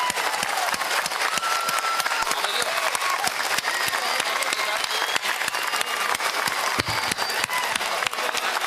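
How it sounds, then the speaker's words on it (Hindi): A large crowd applauds steadily at a political speech event honouring Tipu Sultan, dense continuous clapping filling the whole stretch with no pauses, loud and sustained. "मैं चाहता हूं कि 30 सेकंड तक तालियां गूंजे टीपू सुल्तान के लिए"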